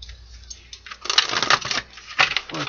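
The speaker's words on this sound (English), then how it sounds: "Two more shuffles." A deck of tarot cards is shuffled close up in two quick bursts of papery riffling and flicking, with a short gap between them and no voice.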